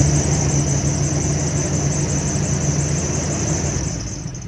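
Jeep Wrangler engine running steadily with a low throb and a constant high whine, close and fairly loud, the throttle moving only slightly with no clear rev rise, alone without talking.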